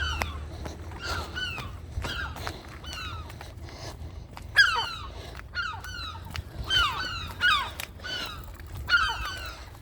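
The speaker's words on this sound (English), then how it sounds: "you can hear there's lots of seagulls about" Many seagulls call at once, overlapping squawking cries repeating in loose bursts, some close and loud, others farther off, over faint outdoor rumble.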